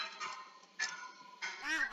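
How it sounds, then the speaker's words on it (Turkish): A bird from the Better Animals Plus mod in Minecraft gives three short honking, goose-like calls, quiet and separated by brief pauses, with no talking. "Burada da aha bakın bu kuş."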